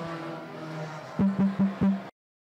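Race cars racing on an oval track at Hudson, with a steady layered engine drone and a few rhythmic pulsing bursts near the end before the sound cuts off abruptly.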